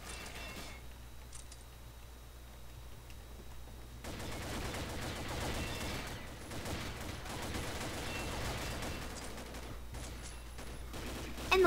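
G36e rifle firing in Combat Arms: quiet at first, then a sustained stretch of rapid automatic fire, fairly soft and steady, continuing to the end with a slight rise in the final moment.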